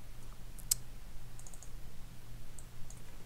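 A single sharp computer mouse right-click near the start, a few faint clicks after it, over a low steady hum in a quiet room.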